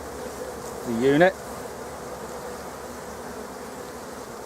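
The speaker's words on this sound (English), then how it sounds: "the worker bees have been working the" A brief, loud honey bee buzz with a rising whine passes close by, over a steady low hum of many worker bees droning in the background at a hive.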